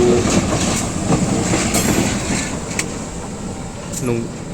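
Rumbling train noise with rhythmic clicking of wheels over rail joints and occasional metallic squeals, a slow-moving locomotive shunting close by at a railway station.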